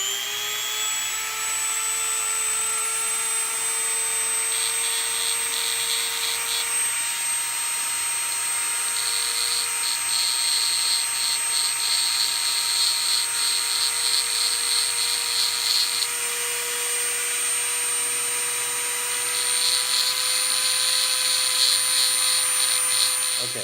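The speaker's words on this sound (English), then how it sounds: "now I'm going to take some off with my Dremel, and I got like just a little grinding attachment there." A small Dremel rotary tool with a grinding attachment grinds down an AK disconnector, a steady high whine holding throughout with a faint rising and falling rasp as the stone bites the steel, close and loud.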